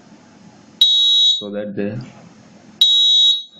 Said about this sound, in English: now the alarm sound frequency has increased